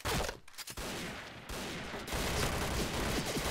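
Rapid bursts of K1 rifle fire in the shooter game Point Blank, a dense fusillade of close shots running nearly continuously with brief gaps, fairly quiet overall.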